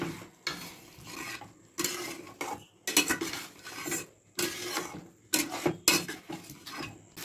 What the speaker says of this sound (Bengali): মশলাটার সাথে ভালো করে আলুগুলোকে মিশিয়ে নেব